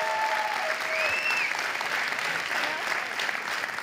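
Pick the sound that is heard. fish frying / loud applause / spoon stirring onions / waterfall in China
loud applause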